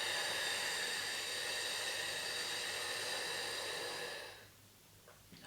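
A long, steady exhale during a pelvic health breathing exercise, a close, soft breath of air lasting about four seconds before fading to near silence.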